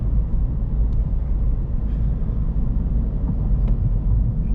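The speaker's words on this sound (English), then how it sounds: "it takes a short while till the turbocharger responds, but this is common for a 4-cylinder diesel engine" A BMW 318d E46 four-cylinder turbo diesel pulls under acceleration, giving a steady, heavy low drone with engine rumble that holds constant for the whole stretch, heard from inside the car.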